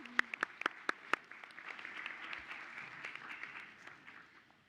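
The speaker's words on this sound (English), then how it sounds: "Can we give one more round of applause for our amazing students?" An audience in a school board meeting auditorium claps for students: a few sharp, separate claps at first, then a soft, scattered patter of applause that stays quiet and somewhat distant.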